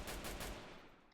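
A quick burst of several gunshots from the video game Free Fire, sharp rapid cracks over about half a second, then fading away, with no voices.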